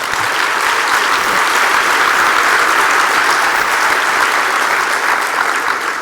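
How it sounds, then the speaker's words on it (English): A large gala audience at an awards dinner applauds loudly and continuously, a dense, even roar of clapping that fills the room from start to finish without any talk. "Can we have a round of applause to help convince her that that's a good idea?"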